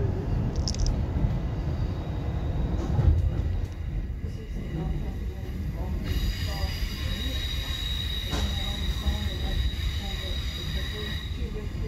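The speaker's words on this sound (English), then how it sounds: "This is a Redcliffe Peninsula train running express to Northgate, stopping only at Eagle Junction." A Redcliffe Peninsula express passenger train to Northgate rumbles along with high metallic wheel squeal and hiss, steady and close, while voices talk faintly over it.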